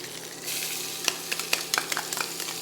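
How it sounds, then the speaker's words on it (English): Onions drop into a hot pan for a chicken piccata sauce and burst into a steady close sizzle, with scraping stir strokes clicking through it. "I'm going to put in my onions"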